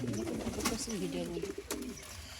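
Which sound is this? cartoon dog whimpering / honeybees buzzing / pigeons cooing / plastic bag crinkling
pigeons cooing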